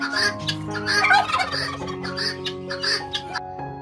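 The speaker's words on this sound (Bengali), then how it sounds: "এগুলো হচ্ছে বন মুরগির মতো, অন্য জাতের মুরগি। এদের শব্দটাই আলাদা ধরনের।" Jungle-fowl-like chickens in an enclosure at a forest resort give loud, close, overlapping gobbling and clucking calls in quick bursts that rise and fall for a few seconds.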